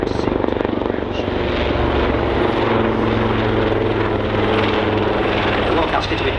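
A Royal Navy Wildcat helicopter with two CTS800 engines flies at Waddington Airshow, its loud, steady rotor thrum and turbine roar filling the air close by, with a voice talking over it.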